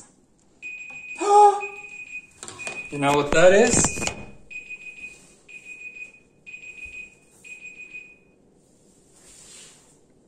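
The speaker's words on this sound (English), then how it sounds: "That's the alarm for taking out my beers out of the freezer." A kitchen timer alarm set for pulling beers from the freezer beeps in a clear, repeated pattern of short bursts, while a person talks over part of it and kitchen clatter sounds nearby.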